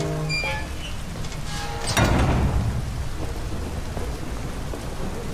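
Steady heavy rain pours outside a house in Detroit: Become Human, and a loud thunderclap breaks about two seconds in before rumbling off under the continuing downpour.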